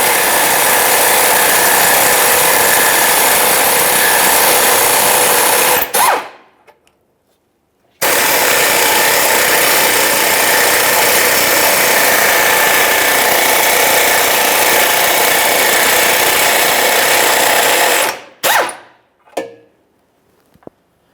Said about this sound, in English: Still using our 14mm, we can start dislodging these mounting bolts.